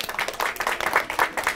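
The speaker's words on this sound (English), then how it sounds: "Round of applause for Jaden." A small audience at a library magic workshop gives a short round of applause for a young volunteer, a brisk scatter of hand claps close by, lasting just over a second.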